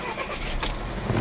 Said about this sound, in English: Start the car up for you.